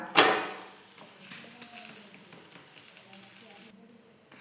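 An evening snack fries in a small amount of oil in a pan, giving a steady soft sizzle with a brief clatter at the start and light stirring or turning noises.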